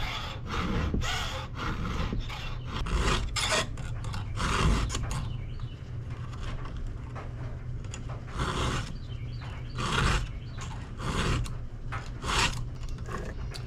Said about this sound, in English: So I'm gonna sharpen these blades again.